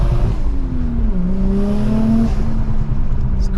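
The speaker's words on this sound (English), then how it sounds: "It's a quick car." A fast RC car drives on a Chaser chassis fitted with cheap wheels, its electric motor whining in rising and falling tones at close range with a steady rumble beneath.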